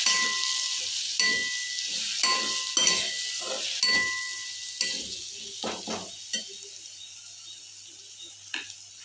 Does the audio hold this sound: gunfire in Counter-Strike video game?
no